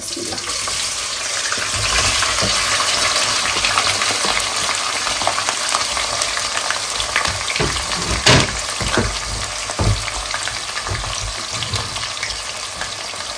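Onion, ginger and garlic paste hits hot oil with cinnamon and cardamom, setting off a loud, dense sizzle that runs throughout, with stirring scrapes and bursts of spatter layered on top.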